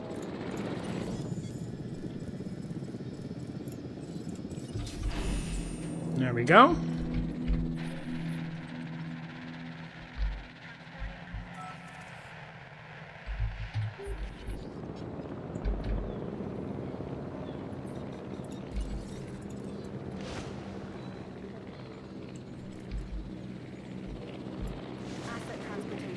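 A helicopter in the park-building game Jurassic World Evolution whirs and whines through a rising sweep, mixed with droning game tones and soft music while someone talks over it.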